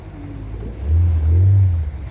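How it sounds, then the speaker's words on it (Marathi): A boat on the sea moves between two rocks, its engine giving a low rumble as waves wash around the hull. The surge swells briefly in the middle, and no one speaks. "तर आता आपली बोट इकडनं आतमध्ये जाणार आहे दोन रॉकच्या मध्ये दोन दगडांच्या मधसून"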